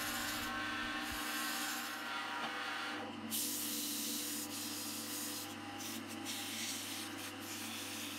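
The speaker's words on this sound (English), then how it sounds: "So I've sanded up through the grits" Sandpaper works over a wooden lidded box, a steady, close hiss of abrasive rubbing that runs continuously, with brief dips and changes in pressure along the way.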